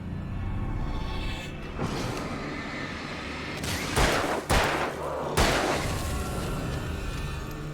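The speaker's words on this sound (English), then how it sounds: "I didn't want to use the shotgun on him" Shotgun blasts fired in the Alan Wake video game during a hotel chapter, several heavy booming shots at irregular intervals over a continuous dense game soundtrack and ambience.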